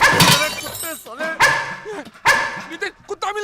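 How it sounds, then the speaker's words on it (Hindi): A dog barks in a scene from the Hindi comedy film De Dana Dan, three loud, close barks spaced about a second apart, with voices around them. "नितिन कुत्ता मिल गया"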